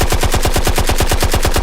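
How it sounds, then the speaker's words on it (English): Rapid automatic gunfire sound effect, a loud, evenly spaced burst of about fifteen sharp shots in under two seconds, alone with no voices. "Gunshots!"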